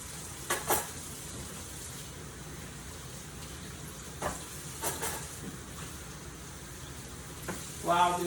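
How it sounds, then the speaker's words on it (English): Ground beef sizzling and frying in a pot for chili, a soft steady hiss with a few stirring scrapes and clinks, heard close. "While this ground beef is cooking up"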